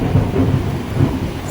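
Low thunder rolls with steady rain around a cold mountain lodge at Kedarnath, a continuous, fairly loud rumble with no voices.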